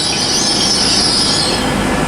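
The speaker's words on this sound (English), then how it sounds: "Okay, departing now, it's the 12:03 Great Western Railway service" A Great Western Railway train rolls out of Bristol Parkway station with a steady rumble and a high metallic squeal of wheels on rails, close and continuous.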